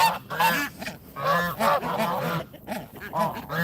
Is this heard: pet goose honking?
yes